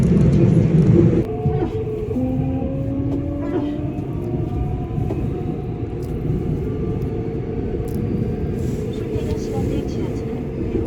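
Continuous low rumble of a metro train in motion in Korea, steady and enveloping, with faint squeals and occasional rattles; a voice speaks briefly at the start.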